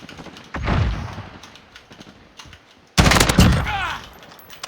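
Bursts of rapid automatic gunfire from a video game, one volley early and a louder, denser burst later, with sharp crackling shots and quieter pops in between.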